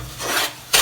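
A rava and sugar mixture for Sri Lankan laddu scrapes and rubs against a buttered pan as it is stirred, giving two short, close, gritty rasps.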